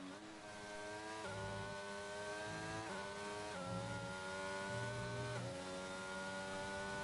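A race car laps Imola in a racing video game, its engine a steady high-pitched whine that climbs through each gear and drops sharply at every upshift, with a few shifts spaced a second or so apart.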